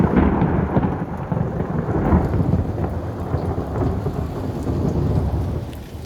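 Thunder rumbles continuously through a thunderstorm near a street light while rain patters on surfaces, a loud, rolling, uneven roar with no voices.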